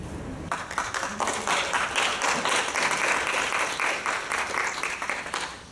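Audience applause fills a hall after a middle school debate speech at a summer national final, a dense, steady burst of many hands clapping that swells and holds for several seconds before tapering off.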